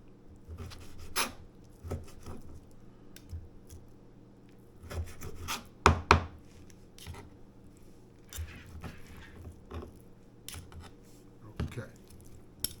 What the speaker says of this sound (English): I'm going to have to trim off some of this fat on some of these pieces